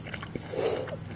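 A bite into a veggie egg roll, a short crisp crunch followed by soft close chewing, heard alone.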